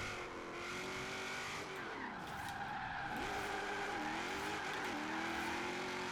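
A drifting S14 Rocket Bunny build, either a 500 hp RB26 or a 650 hp V8, swings into a big entry as its engine wails and tires squeal continuously, loud and close for several seconds.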